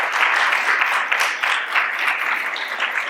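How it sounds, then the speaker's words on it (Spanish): Festival audience applause at a television series premiere, dense and continuous clapping from a large crowd, even and sustained for about three seconds. "para que den un aplauso fuerte, por favor."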